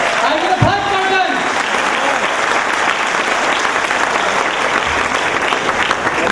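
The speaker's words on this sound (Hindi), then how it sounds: "हाँ, बहुत तालियां।" Sustained applause from a seated audience at a Dhanwantari event in Baroda, a dense steady patter of many hands clapping that fills the whole stretch, with a brief voice at the start.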